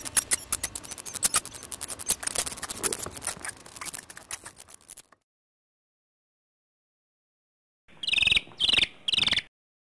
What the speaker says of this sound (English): she responds with protest squeals ranging from 1 to 57 kilohertz.